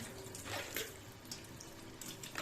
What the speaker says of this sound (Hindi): ये हमने इसको अच्छी तरह से धो लिया